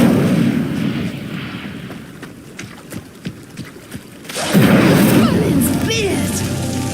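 A burst of fiery magic in a video game, with a dense roaring whoosh of flames that swells and lingers, following quieter crackles and thuds from the game scene.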